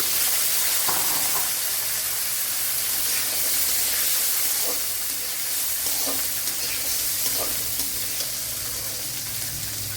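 Seven garlic cloves, a small piece of ginger, a green chili and ten small shallots sauté in coconut oil, giving a steady, loud, close sizzle with faint scattered pops and stirring scrapes throughout.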